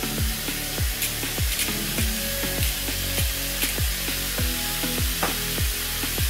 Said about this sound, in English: While that beef's cooking